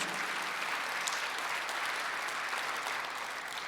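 A church congregation at a Sunday service claps steadily in a dense, continuous wash of applause that holds at an even, loud level throughout, with no talk above it.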